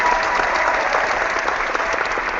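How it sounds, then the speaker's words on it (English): A dense burst of applause from a crowd, loud and continuous clapping that carries evenly through its short length. "no applause, please."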